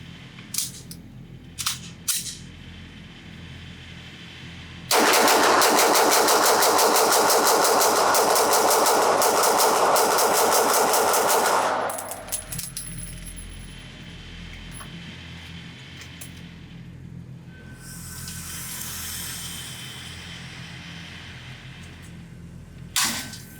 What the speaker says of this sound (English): I'm going to load up an extended magazine this time and just do the typical mag dump